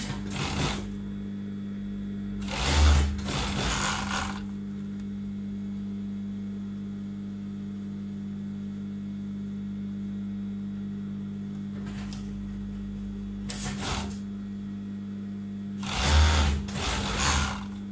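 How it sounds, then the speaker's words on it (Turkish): Overlock sewing machine stitching the shoulder seams of a tunic, front and back pieces placed right sides together; short bursts of fast, steady whirring stitching near 3 and 4 s and again around 14 and 16.5 s over a constant low motor hum. "Şimdi overlock başındayız."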